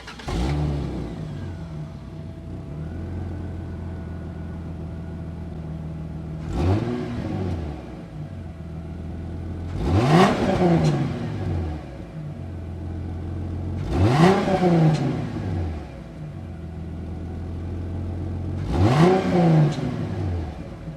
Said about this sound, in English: Let's take a listen to the exhaust and hear how she sounds.